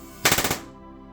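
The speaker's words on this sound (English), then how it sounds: "So right now, as the motor spins," An airsoft gun fitted with an RDX B.O.S.S. unit fires a quick burst of about five rapid shots as its motor spins, loud and close, then goes quiet.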